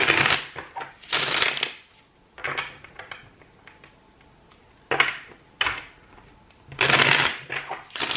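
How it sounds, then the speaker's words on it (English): Tarot cards are shuffled in several quick riffling bursts separated by short pauses, close and fairly loud, with no talking. "I'm just going to give your cards a quick shuffle here"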